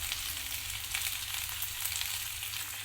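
Ginger paste and onions fry in a pan with a steady, bright sizzle that holds evenly throughout at close range, no voices present.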